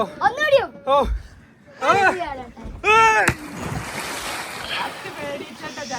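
Sea waves wash around a boat off the coast of Goa, a steady rush of water and wind noise that follows a few seconds of people talking.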